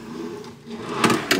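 A wooden drawer in a deluxe studio hotel room at Disney's Wilderness Lodge slides open and shut, producing a couple of close, brief knocks over a quiet room.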